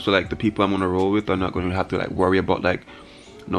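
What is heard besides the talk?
None of the usual background noises is heard.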